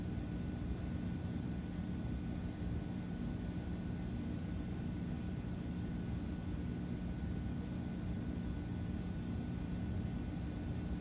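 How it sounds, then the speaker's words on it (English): Steady, even aircraft engine drone of an airplane taxiing on a runway in a flight simulator game, constant and unchanging for the whole stretch with no voices. "Now we'll back taxi down to the end of runway 26."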